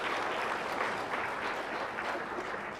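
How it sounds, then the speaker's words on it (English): Steady, moderately loud applause from an audience at a conference closing plenary, an even wash of many hands clapping throughout. "One more round of applause for her."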